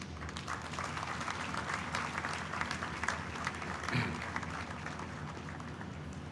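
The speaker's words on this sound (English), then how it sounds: "please join me to give a round of applause to our emeritus professors" Steady audience applause at a university convocation for emeritus professors: dense, even clapping from a large seated crowd, moderately distant and sustained without a break.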